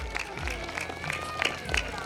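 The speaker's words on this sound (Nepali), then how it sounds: "सबैजनाले जोरदार तालीले स्वागत गरिदिनु हुन हार्दिक अनुरोध गर्दछु" An audience at a school handover programme claps in welcome, a dense, continuous patter of many hands heard from close by, steady throughout with occasional louder bursts.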